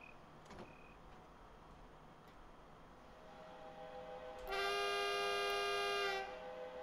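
A regional train pulling away from Oberau station, platform 2, on the Munich–Garmisch-Partenkirchen line, with low rumbling running noise joined by a loud, sustained multi-tone departure whistle or horn lasting about two seconds.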